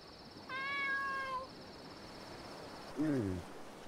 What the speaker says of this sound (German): Dieses Geräusch, das ist unser Kätzchen